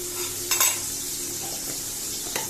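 Slices of eggplant fry in a pan with a constant close sizzle. A few sharp scrapes and clinks from stirring stand out above it.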